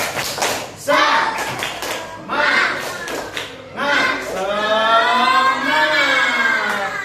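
A short patterned round of group clapping in a teacher-training exam session, sharp claps in bursts, followed by a chorus of voices shouting together.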